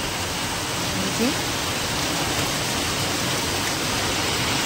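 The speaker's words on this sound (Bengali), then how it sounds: "ভীষণ বৃষ্টি হচ্ছে," Steady, dense rain hissing continuously, close and loud, an unbroken wash of noise with no pauses.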